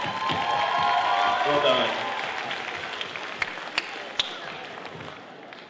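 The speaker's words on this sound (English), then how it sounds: "round of applause for Breath of Life" Audience applause fills a school gong show hall, broad steady clapping that swells early then gradually thins, with someone speaking briefly over it and a few sharp louder claps standing out near the end.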